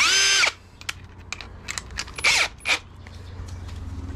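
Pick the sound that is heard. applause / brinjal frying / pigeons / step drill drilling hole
step drill drilling hole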